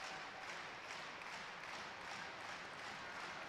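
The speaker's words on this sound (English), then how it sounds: "And the home crowd's getting into it now." Home crowd applauding and cheering at a Wisconsin vs Michigan men's college wrestling dual, a steady dense wash of clapping and crowd noise that holds without a break throughout.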